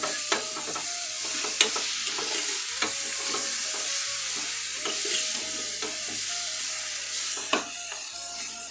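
Taro root and dried fish tamarind stew cooking in a pot, a steady close sizzle and bubbling hiss with scattered stirring clinks and scrapes throughout, no voices.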